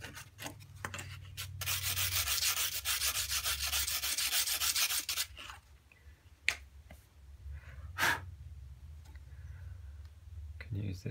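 A 2H graphite pencil is sharpened with a dense, scratchy rasping that lasts a few seconds, followed by quieter rubbing and a few clicks while a person talks.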